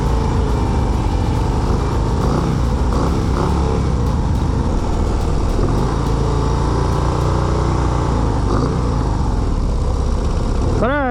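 A 2024 Harley-Davidson Road Glide ST motorcycle rumbles steadily and loudly throughout the ride, with constant engine and wind noise and someone talking over it.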